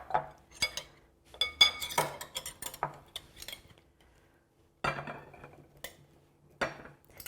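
Salad being moved into a serving bowl, with scattered clinks and scrapes of utensils against dishes, soft and close, coming in irregular bursts with quiet gaps between.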